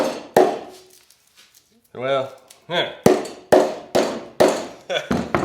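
A hammer whacks bark off a cedar log in a series of sharp, loud knocks, two at first, then a steady run of about eight blows, with someone speaking briefly between them.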